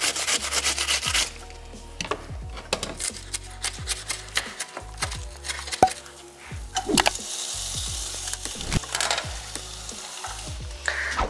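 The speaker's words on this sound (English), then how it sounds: "And then I'm going to finely grate our onion." An onion is grated finely for vegan sausage rolls, rhythmic scraping strokes rasping against the grater in quick repeated bursts, close and fairly loud, with no talking.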